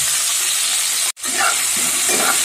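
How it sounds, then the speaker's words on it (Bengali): Chopped tomatoes fry over medium heat in a pan for a Bengali aubergine dish, a loud, close, steady sizzle with a momentary break partway through, followed by soft stirring crackles. "এই টমেটোটাও আমি এখন একটু 2 মিনিট ধরে ভালোভাবে ভেজে নিচ্ছি।"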